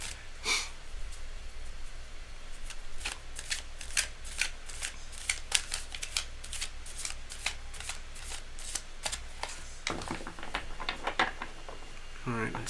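A tarot card deck being shuffled during a live reading, with a long run of crisp, rapid riffling and card flicks up close, fairly quiet, ending in a brief burst of louder shuffling.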